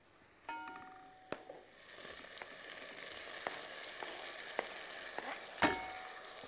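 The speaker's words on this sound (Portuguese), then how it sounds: "quando a cebola estiver meio refogada, não precisa estar muito loura, deito-lhe os tomates picadinhos" Chopped tomatoes sizzle steadily in a sauté of onion, garlic and coriander for a fish pasta dish, a broad frying hiss broken by a few sharp clicks and spatula knocks against the pan, close and alone with no talk.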